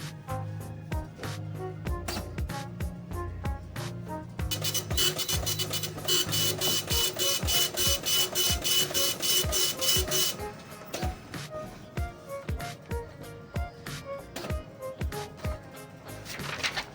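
An Epson LQ-690 dot matrix printer runs after a power repair, its print head rattling in rapid buzzing bursts with steady carriage movement, loud and close throughout with no talking.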